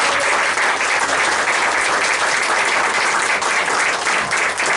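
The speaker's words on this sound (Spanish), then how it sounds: "Yo creo que se merece una fuerte ofrenda de palmas" A church congregation gives a strong, sustained round of clapping. The dense, even applause fills the room at full volume from start to finish, with no clear voices above it.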